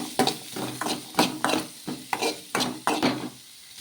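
Cucumber pieces frying in oil in a pan while a spoon stirs them, about nine scraping, clattering strokes in a loose rhythm over a soft sizzle, close by.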